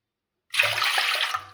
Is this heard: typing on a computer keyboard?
no